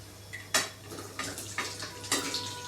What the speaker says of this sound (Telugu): ఇప్పుడు పన్నీర్ వేసేస్తున్నా.